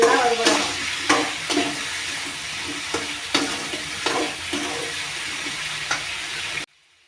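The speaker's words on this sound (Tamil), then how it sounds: "தேவையான அளவு உப்பு போட்டு நல்லா அந்த எண்ணெயிலே வறுபடணும்" Raw plantain slices fry in salted oil in a pan over a high flame, a steady close sizzle broken by repeated scraping stirs, ending abruptly in silence.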